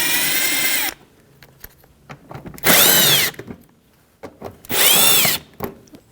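A power drill with a 7mm socket whirs in several short, loud bursts while backing out fender well mounting screws on a 2007-2017 Jeep Patriot, with quiet clicks and handling noises between bursts.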